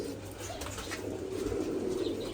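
Pigeons coo softly, a low burbling murmur from a few birds close by, with faint wing rustles and no talk.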